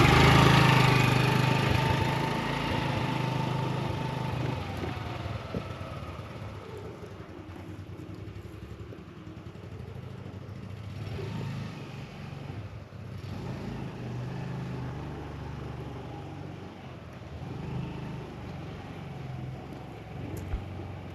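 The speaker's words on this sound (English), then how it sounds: "Yeah, so that is our scooter." A scooter engine runs steadily at a rural Kenyan village gate, a continuous mid-pitched hum that starts louder and then settles into an even, slightly fluctuating drone.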